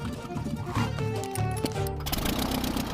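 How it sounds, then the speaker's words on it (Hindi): A cheap small plane's engine gives a steady, buzzing drone like a lawn mower, with a rattling mechanical tone, running under background voices. "इसकी आवाज लॉन मोवर इंजन जैसी क्यों है?"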